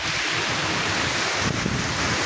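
Strong wind roars steadily across the microphone during a village wind and rain storm, with a dense hiss of heavy rain, a continuous loud stormy wash with a brief gust near the end.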